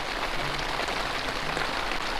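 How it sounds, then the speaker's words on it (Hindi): Steady, dense night rain hisses and patters without a break, a continuous wash of drops with no voices, at a mountain camp in Uttarakhand. "ये बारिश तो रात भर चली है मेरे ख्याल से"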